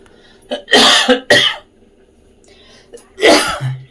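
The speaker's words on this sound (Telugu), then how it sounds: "ఇప్పుడు నాకు దగ్గు వస్తుంది" A person coughs in three harsh, loud, close bursts: a short one, a strong double cough, then a final one after a pause.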